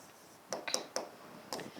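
A pen or marker writes by hand on a board or paper, producing a few short, faint scratchy strokes in a quick, irregular cluster with brief pauses.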